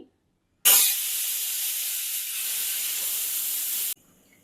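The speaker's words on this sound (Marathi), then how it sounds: "एक सिटी झाला आता" Pressure cooker whistle releasing steam while cooking tendli masala, a single loud, continuous hiss that starts abruptly, holds for about three seconds, then cuts off into quiet.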